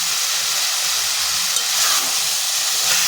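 Tomatoes with salt are stirred in a pan, a soft continuous sizzle and hiss with light scraping, steady and close, with no talk.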